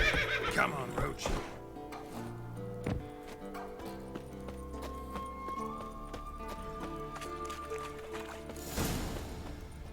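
Roach the horse in The Witcher 3 gives a loud whinny and then clip-clops at a gallop under game music, with a person talking over it.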